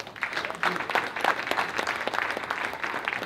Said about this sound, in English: Let's give Ben another applause, please